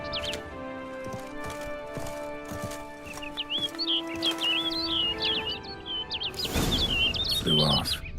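Bird chirps and tweets repeat in quick bursts in The Witcher 3, layered over game ambience and hoof-like clopping, with a louder rustling swell toward the end.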